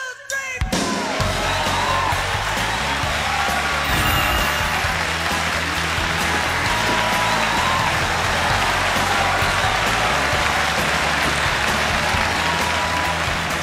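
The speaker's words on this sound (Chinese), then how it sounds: "掌声有请段晓东。" A television studio audience claps to welcome a job candidate onto the stage, loud sustained applause starting abruptly and holding steady for over ten seconds.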